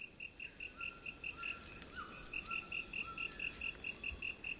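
Tree frogs calling in courtship, a steady pulsing chorus of repeated high chirps running throughout, with a few lower croaking calls rising in the middle over a dense night background.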